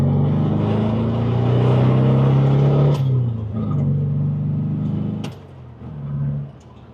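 A VW Golf 8.5 GTI's engine and exhaust drone loudly and steadily up close, then ease off, with a couple of sharp exhaust cracks punctuating the fading note.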